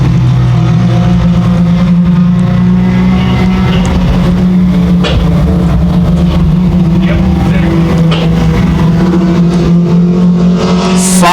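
Truck racing engines roar loud and continuous at Evans Mills Raceway Park, a dense steady drone of several trucks racing together with rising and falling revs, while a race announcer talks over it.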